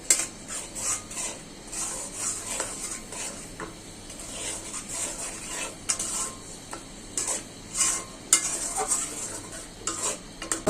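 A spice paste of ground turmeric, chili and ginger with salt sizzles in a pan, stirred and scraped repeatedly with a utensil, with scattered sharp clinks of metal against the pan and no talking.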